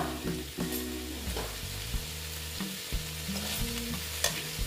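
Squash and potato curry with turmeric is sautéed and stirred in a pan. It gives a continuous close sizzle with scraping stirs and occasional soft knocks, with no voices.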